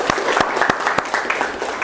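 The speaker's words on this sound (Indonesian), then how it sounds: "Tepuk tangan untuk teman kita." Students clap for a classmate in a classroom, a brisk round of many hands with a few sharp, distinct claps standing out above the rest, fairly close and with no talking over it.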